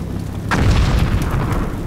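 A single tank cannon shot in Combat Mission Black Sea, a sudden loud boom followed by a rolling rumble that fades slowly.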